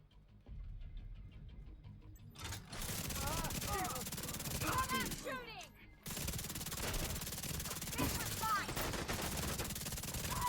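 Rapid automatic gunfire from a weapon in the shooter game The Division 2, loud sustained bursts with a brief pause before the firing resumes, mixed with game effects.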